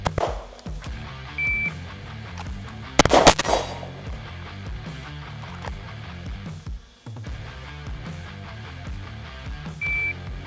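An FN Reflex rifle fires once, a single sharp, loud report in the middle of the clip, with quieter handling noise and ambient sound before and after.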